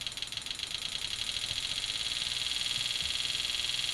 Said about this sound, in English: if you listen to the sound, you can hear the injector speed up